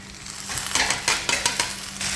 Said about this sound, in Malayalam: ഈ അരിഞ്ഞു വെച്ചിരിക്കുന്ന വെണ്ടയ്ക്ക നമ്മുടെ ഈ ചട്ടിയിലേക്ക് ഇട്ട് കൊടുക്കുക.